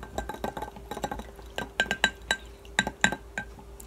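Makeup being stirred in a small container, a run of light clicking taps and scrapes of a tool against glass or plastic, close and fairly quiet, with no talking.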